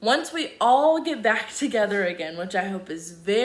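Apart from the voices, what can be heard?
No everyday noise stands out behind the speech.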